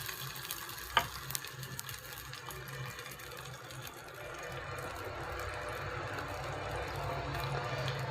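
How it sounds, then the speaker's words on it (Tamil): Mustard seeds, urad dal, cumin and curry leaves temper in hot oil, faint at first with a sharp clink near the start, then a soft steady sizzle that grows slightly louder. "கொஞ்சம் கடுகு, உளுத்தம்பருப்பு, சீரகம், இன்னும் கருவேப்பிலை போட்டு தாளிச்சிக்கிடலாம் ஃப்ரெண்ட்ஸ்"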